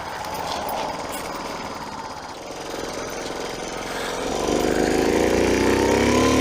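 Engine of a 1982 Honda C70 Passport small motorcycle pulling up a hill, a buzzing mid-pitched drone that grows louder and rises in pitch as it climbs, heard close and continuous without speech.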